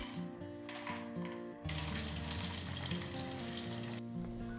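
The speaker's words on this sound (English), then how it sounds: "heat a little ghee in a pan and roast some almonds and cashews until golden" Almonds and cashews roast in ghee in a pan, giving a steady close sizzle, with tonal music-like sounds running alongside throughout.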